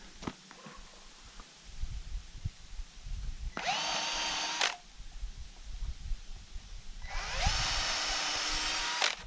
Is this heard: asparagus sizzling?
no